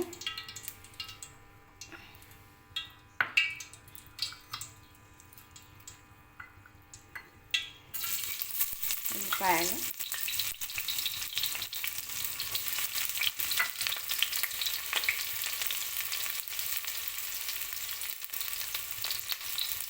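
Onions frying in a pan for cabbage curry: quiet clicks and ticks at first, then a louder continuous sizzle with stirring scrapes, near and steady.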